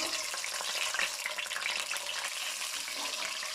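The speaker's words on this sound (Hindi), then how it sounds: "तो अभी इस घी को मैंने गरम कर लिया है और गरम करके हमने इसको अंडे डाल देने हैं।" Boiled eggs frying in hot ghee make a dense, steady sizzle that crackles continuously at close range with no voices.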